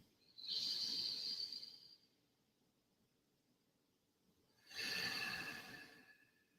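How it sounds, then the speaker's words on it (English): Two slow, deep breaths during a relaxation exercise, each a long airy exhale of about one and a half seconds, close and soft, separated by a quiet pause with no talking. "And then take a few breaths again."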